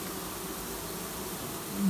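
Honey bees buzz at a hive while being smoked, forming a dense, steady, close drone that swells slightly louder at the end.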